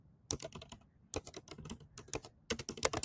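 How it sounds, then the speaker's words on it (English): Someone types text on a computer keyboard in three quick bursts of close, crisp key clatter separated by short pauses, with no voices. "we're going to type in"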